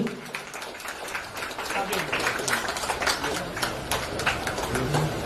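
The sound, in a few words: audience applause at stone plaque unveiling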